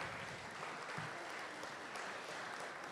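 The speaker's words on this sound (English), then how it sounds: "I feel like they deserve another warm round of applause." Wedding reception guests applaud in a steady, dense round of clapping that carries on without pause, heard somewhat faintly as from across a hall.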